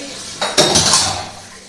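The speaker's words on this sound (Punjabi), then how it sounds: "ਲੱਗਦਾ ਇਹਨਾਂ ਨੇ ਸਾਰੇ ਜਹਾਂ ਦੇ ਭਾਂਡੇ ਇਕੱਠੇ ਕਰ ਲਏ ਆ" A pile of dishes, pots and cutlery clatters and clinks in a short, loud burst midway through, with metal and ceramic knocking together and no voices.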